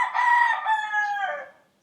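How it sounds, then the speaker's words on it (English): A cockerel crows loudly nearby, one long drawn-out cock-a-doodle-doo that rises and then trails off, heard alone with no talk. "Apologize for all them cockerels."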